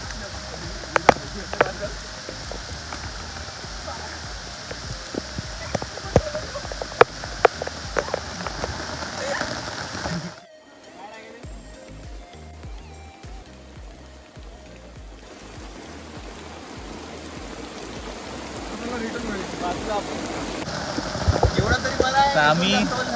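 Rain falling on a shed during a monsoon outing at Salbardi, a steady patter with scattered sharper drops, swelling louder toward the end, with voices talking over parts of it.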